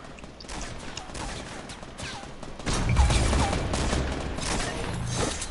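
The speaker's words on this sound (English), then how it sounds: "We're also getting shot at." Rapid bursts of gunfire in a battle royale video game, a dense crackling fusillade that grows louder midway and stays steady under game noise.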